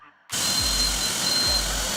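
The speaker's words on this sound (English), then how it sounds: "Rideable miniature railway train." A rideable miniature railway train starts up abruptly into a steady mechanical hiss and rumble, with two low rhythmic thuds of wheels passing over rail joints.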